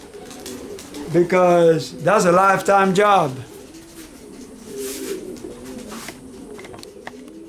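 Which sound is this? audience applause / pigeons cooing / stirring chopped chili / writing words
pigeons cooing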